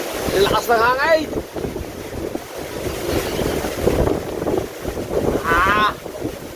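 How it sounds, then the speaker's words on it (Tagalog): Strong typhoon wind roaring around a house during a storm with flooding, a loud, continuous rushing buffet with gusts, close to the microphone, while people shout and whoop excitedly over it. "Lakas ng hangin!"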